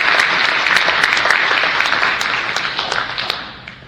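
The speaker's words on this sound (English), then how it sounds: "I want us to give a big round of applause to the Iowa Tribe" A big round of applause rises through a town hall meeting in a tribal facility in Lincoln County, Oklahoma, loud and dense clapping that holds steady and then tapers off toward the end.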